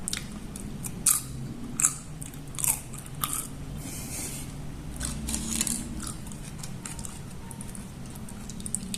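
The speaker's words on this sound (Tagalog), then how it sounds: "Ito yung natirang tortilla. Meron pa kami kaya. Diba? Crunchy pa." Leftover homemade tortilla chips are bitten and chewed close up, with a few sharp crunchy bites followed by steady crackling mastication.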